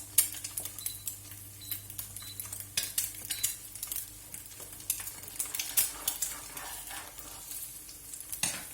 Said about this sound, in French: ce qu'on entend, c'est l'œuf qui cuit